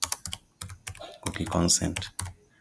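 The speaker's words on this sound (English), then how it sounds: "click on the search bar, type cookie consent" Fingers type on a computer keyboard, producing quick, close, clattering keystrokes in uneven bursts while a voice talks over the clicking.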